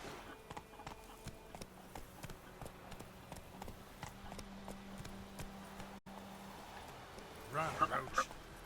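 Roach, a horse in The Witcher 3, clip-clops along in a quick regular gallop, hoofbeats moderately close over a steady game ambience with a low drone, ending in a short burst of louder voice-like sound.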